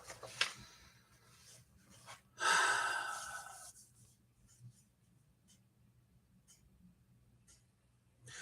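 One slow, deep breath drawn in close to the mic, rising quickly and then fading, set against a quiet room with faint soft rustles before and after.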